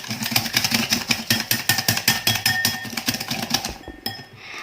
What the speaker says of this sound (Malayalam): ഇനി ഇതെല്ലാം കൂടി നന്നായിട്ടൊന്ന് മിക്സ് ചെയ്ത് എടുക്കാം.